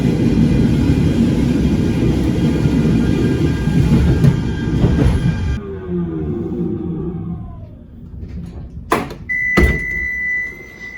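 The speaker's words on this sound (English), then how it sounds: "this tram is gonna go on its merry way" At night in Manchester, a tram rumbles loudly along the tracks and pulls away, its low roar giving way to fading whines and squeals, then a couple of sharp clunks and a steady electrical hum.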